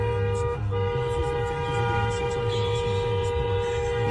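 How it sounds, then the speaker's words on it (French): A car horn blares in one long, sustained steady tone amid traffic noise, loud and close, holding for several seconds without a break. "Pourquoi il klaxonne?"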